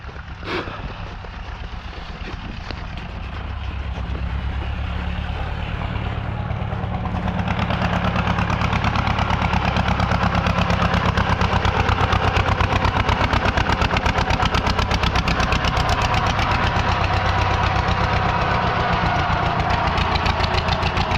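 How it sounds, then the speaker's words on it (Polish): Zetor tractor engine, just back from an overhaul, running steadily: a continuous low rumble with dense rapid knocking pulses that grows louder after a few seconds and holds near and strong, with no talk over it. "Tak wygląda goły ciągnik."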